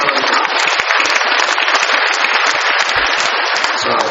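A congregation applauds for a pastor in church, dense sustained clapping from many hands for about four seconds, loud and close with little talk.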